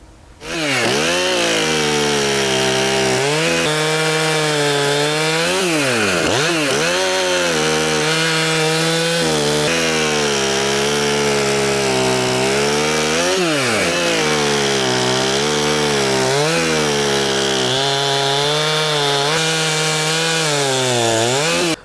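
A chainsaw running a chain with its burrs filed down cuts steadily through wood, loud and close, the engine note dipping and recovering under load through repeated cuts with no talking.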